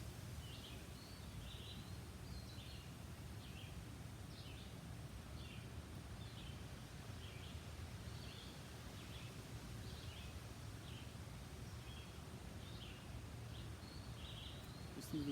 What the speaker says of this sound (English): the birds singing